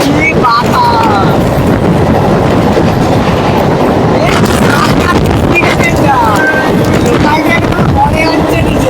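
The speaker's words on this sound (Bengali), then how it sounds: "ওরে মামা রে কি বাতাস!" Strong wind rushes past a fast-moving MEMU passenger train between Adra and Purulia, a loud continuous roar with rattling carriage noise and rail clatter, a voice speaking over it at times.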